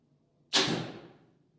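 A single arrow released from a 2023 Mathews Phase 4 compound bow: one sharp, fairly loud crack with a brief airy swish that tails off over about a second, standing alone against a quiet background.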